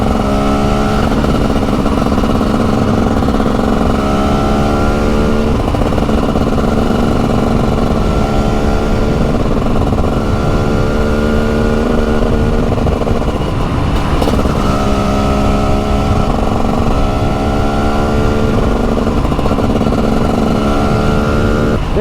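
A TM 300 SMR 300cc two-stroke motorcycle engine runs steadily and loud throughout while riding, with a sustained buzzing drone and harmonic bands that dip and rise as the throttle changes, no voices present.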